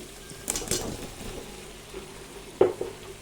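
Potato pieces drop into fried spice paste in hot oil in a home kitchen cooking vegetables for pav bhaji. A steady low sizzle runs throughout, broken by a few sharper splashes and clinks of stirring.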